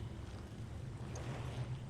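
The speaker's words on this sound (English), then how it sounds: "It's the sound of water sloshing." Water sloshing gently in a still pool in the Resident Evil: Revelations video game, a steady low wash and lapping that runs unbroken throughout at a quiet level.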